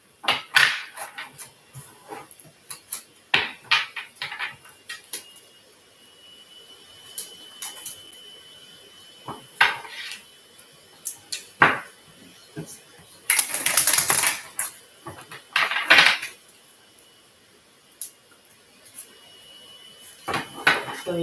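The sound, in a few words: tarot cards being shuffled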